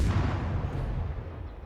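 Warship guns fire in the World of Warships naval battle game, a deep booming blast that rolls and decays for over a second, loud and close with no talking.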